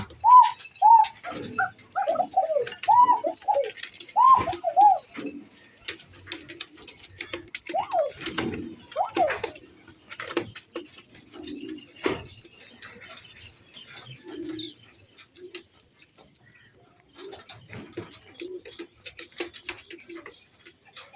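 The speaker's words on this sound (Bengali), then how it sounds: "আমি আপনাদেরকে এই যে এই নটটার একটু ডাক শোনানোর চেষ্টা" A red Bashiraj Koka pigeon coos in a short series of throaty calls early on, followed by softer scattered coos, wing shuffles and ticking clicks in a quiet room.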